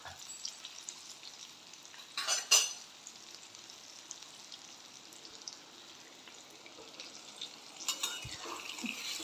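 Potato bhaji with a little chilli and coriander stirred in a pan over a low gas flame; soft sizzle underneath, with a couple of brief scraping clatters of the spoon against the pan.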